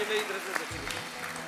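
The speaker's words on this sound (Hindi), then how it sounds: "हाथ उठा के तालियां बजाइए" Scattered clapping from an audience with hands raised at a religious speech gathering, fairly faint and partly covered by a voice speaking over it.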